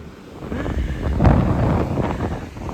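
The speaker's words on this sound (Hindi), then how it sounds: "बहुत ज़्यादा हवा चल रही है तो आवाज़ क्लियर नहीं आती है" Strong wind blasts across a phone microphone on the ocean shore at Dhanushkodi, producing loud, buffeting low rumbles that swell and fade in gusts.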